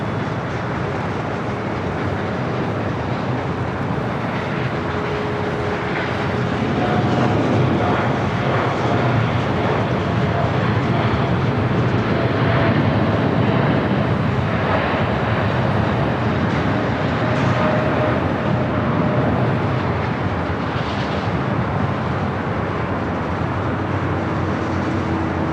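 A Korean Air jet taxis at LAX, a steady broadband jet rumble and whine that holds throughout and swells slightly midway, with faint tonal lines from distant engines.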